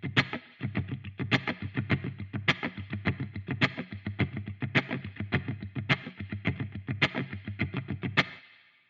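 Distorted electric guitar strummed in a steady, driving percussive rhythm, muted chugs alternating with brighter accented hits on the high strings, close and loud with no talk.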